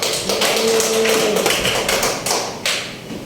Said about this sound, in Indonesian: Berikan aplaus kepada temannya dulu